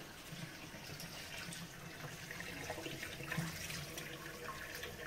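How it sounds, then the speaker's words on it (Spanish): Wild fennel is washed under a running tap, giving a steady, fairly faint stream of splashing water with small irregular spatters throughout, with no voices. "el hinojo se lava muy bien con agua, con abundante agua"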